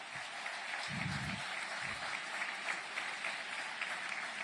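A crowd at a formal dinner speech by Argentine President Javier Milei claps in sustained, dense applause, steady and loud throughout, with a few low murmurs underneath.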